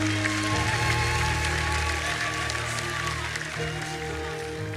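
A church congregation claps together in a sustained, dense burst of applause, with sustained organ-like tones and voices mixed underneath throughout.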